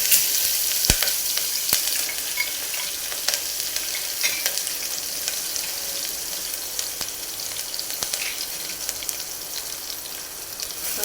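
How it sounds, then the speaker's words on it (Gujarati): Green chillies crackle and sizzle in hot oil with ajwain and hing for a Gujarati vaal shaak, a dense continuous frying hiss broken by sharp spattering pops, heard alone at close range. "પછી લીલા મરચાં એડ કરવાના છે"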